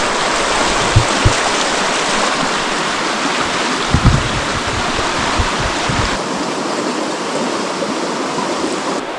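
A mountain stream in Washington's Olympic Mountains rushes steadily and loudly close by, with a broad, constant wash of water and a few faint knocks and thumps under it.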